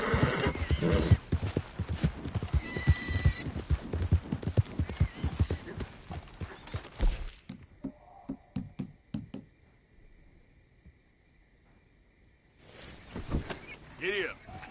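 A horse in Red Dead Redemption 2 gallops with rapid, loud, rhythmic hoofbeats for several seconds. The hooves then drop away, leaving quieter scattered knocks and game ambience, before a louder burst returns at the end.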